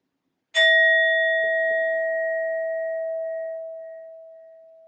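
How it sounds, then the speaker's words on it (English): A single strike on a singing bowl rings out clearly, then a pure sustained tone slowly fades over several seconds. "I'm first going to use my sound bowl to clear and set the energy."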